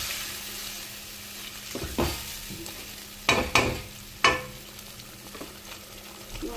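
Spice paste fried in a pan for a festive puja meal: a low steady sizzle broken by several sharp, loud spatula scrapes and stirs, clustered around the middle, with softer stirring between.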